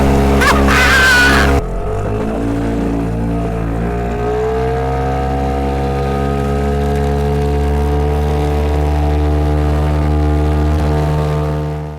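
A motorboat's underpowered outboard engine with a hydrofoil drones loudly and steadily, its pitch rising slightly as it runs at speed, close by and with no talking.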